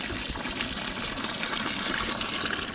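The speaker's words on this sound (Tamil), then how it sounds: "இப்போ ரசத்துக்கு தேவையான அளவு தண்ணி." Water is poured into a cooking pot for a Sri Lankan-style mutton bone rasam, a dense steady gushing splash that runs unbroken and close for the whole moment, with no talk.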